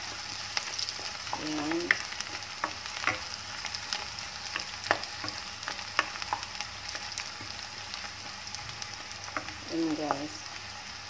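Ingredients sautéing in a frying pan to brown for a mung bean and shrimp dish: a quiet, steady sizzle with frequent clicks of stirring, and a voice speaking briefly twice.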